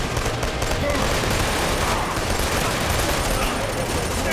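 Rapid bursts of gunfire fill a match of the video game Call of Duty Online in a dense, constant barrage, with a player's voice partly audible under it.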